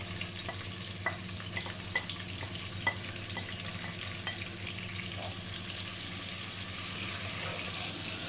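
Finely chopped small onion frying in a pan until light brown, giving a steady soft sizzle with scattered faint crackles and clinks, fairly quiet and with no talk.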